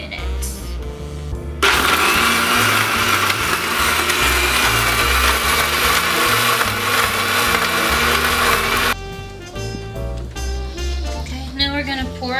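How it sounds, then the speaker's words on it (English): A loud blender whirs at high speed for several seconds blending horchata, a dense steady roar with music playing underneath before and after. "Now we're going to blend it on high speed for about a minute."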